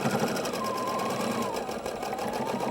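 A sewing machine runs a straight stitch on free-standing embroidery, a fast continuous needle chatter close by, steady and uninterrupted for a few seconds with no talking.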